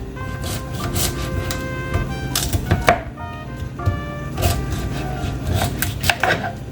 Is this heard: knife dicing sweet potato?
yes